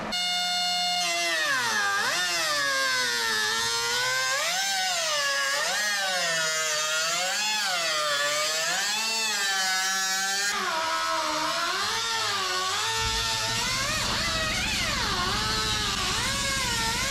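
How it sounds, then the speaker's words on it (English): A die grinder with a small metal-cutting blade cuts a hole in the metal of a Datsun, giving a steady, close, high whine. Its pitch rises and falls in waves as the blade loads and frees up throughout the cut. "We'll cut the hole out with this die grinder with the little metal cutting blade on it there"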